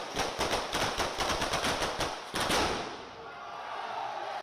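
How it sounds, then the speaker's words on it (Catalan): A rapid string of sharp firecracker bangs crackles in quick succession in Riera Seca, then a louder burst, fading into distant rumbling noise. "A Riera Seca s'escoltaven els primers petards."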